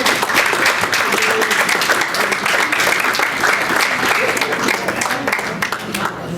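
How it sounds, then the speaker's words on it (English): A café audience gives a big round of applause to rugby league player Jodie Cunningham, a dense, steady burst of many hands clapping up close that stays loud and then tapers slightly at the end. "Can we give a big round of applause"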